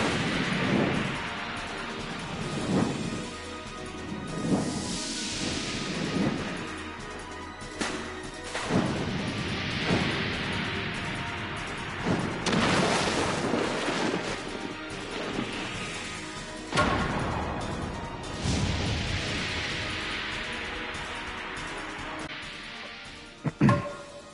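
Bombs in the Final Fantasy XIV video game go off in a string of loud booming blasts and crashes, spaced a few seconds apart, with rumbling tails and no talk.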